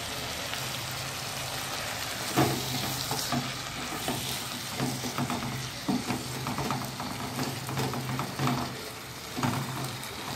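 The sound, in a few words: peas and potato vegetables stir-frying in pan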